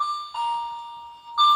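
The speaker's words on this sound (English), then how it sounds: "Nobody makes cookies like Grandma, said Ma as the doorbell rang." A doorbell in a children's story chimes twice with clear, ringing two-tone dings, each sustained and decaying, the second ring arriving about a second after the first.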